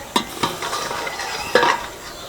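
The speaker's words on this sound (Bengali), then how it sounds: "এবার ঢাকনাটা খুলে দেখব কেমন হয়েছে" A lid comes off a pot of steamed pitha. A few sharp metallic clinks and clatters are heard close by, over a soft, continuous hiss.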